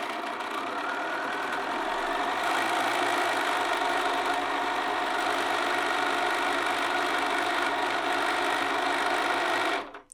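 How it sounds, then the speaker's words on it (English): A sewing machine runs steadily, stitching a sleeve seam from the underarm in one unbroken loud whirring run that stops abruptly at the end. "We'll just sew that edge in place."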